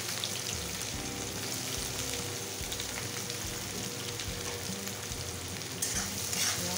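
Onions and cumin seeds fry in oil with a continuous crackling sizzle, fairly soft and steady, patterned like light rain, with a small rise in intensity toward the end and no speech.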